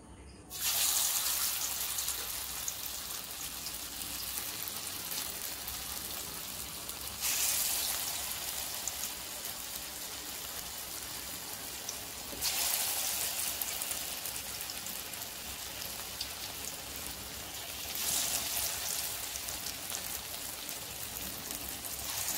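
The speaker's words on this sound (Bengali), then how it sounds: "এবার আমি বড়াগুলোকে ভেজে নেব" Kolmi saak (water spinach) pakora fritters deep-frying in hot oil, a steady close hiss and crackle throughout, swelling louder in several bursts as more batter goes in.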